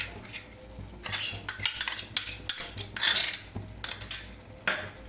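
A spoon scrapes and clinks against a metal pan while chicken rezala is stirred and sautéed with cashew and poppy seed paste, giving irregular close knocks and scrapes over a soft low sizzle.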